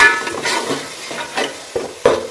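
Chickpea curry (chole salan) being stirred and fried in a pan, with scraping strokes of a spoon and soft sizzling in uneven bursts, close and moderately loud, no talking.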